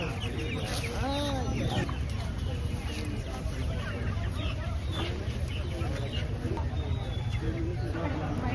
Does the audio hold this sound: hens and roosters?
yes